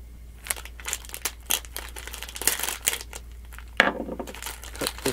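Crinkly plastic cereal bag rustles and crackles in short irregular bursts up close, with scraping and tearing noises as a pocket knife works the packaging open.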